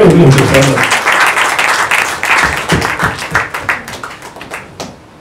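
An audience at a Kannada film event breaks into applause, a dense wash of many hands clapping that thins out into scattered claps toward the end, with some voices underneath.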